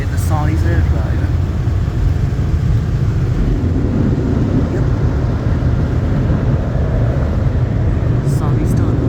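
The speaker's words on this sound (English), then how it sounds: "We have the Sonny's air dryer." Sonny's air dryer blowing in a new car wash tunnel, a steady loud roar of forced air with low rumble running throughout, near and continuous without pause.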